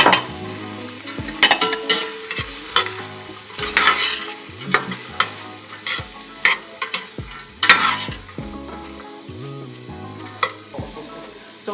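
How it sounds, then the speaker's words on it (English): Celery and carrots sautéing until tender in a pan: a continuous sizzle broken by frequent sharp spoon scrapes and clanks against the pan, fairly close and loud, with no talking. "celery, and carrots, which we're going to saute until it gets nice and tender"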